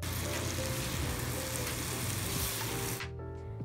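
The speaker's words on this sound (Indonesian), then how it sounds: "Masukkan oncom yang sudah direndam dengan air panas tadi. Aduk pelan-pelan saja." Soaked oncom frying in a pan and stirred slowly: a close, loud, continuous sizzle that cuts off sharply near the end, leaving a faint hum.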